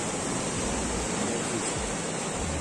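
Sea waves and surf wash steadily against the rocky Newquay coast in Cornwall, England, a continuous loud broadband roar with no voices.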